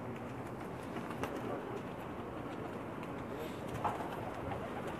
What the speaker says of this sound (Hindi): कबूतरों को दाना डाला जा रहा है